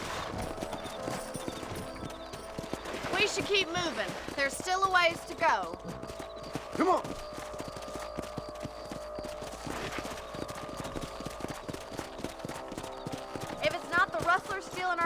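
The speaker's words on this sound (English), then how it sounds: "Let's get back on the horses and see what else is going on." Horses' hooves clip-clop steadily through a ride in the video game Red Dead Redemption, set on a frontier ranch, with occasional whinnies and someone talking over the hoofbeats.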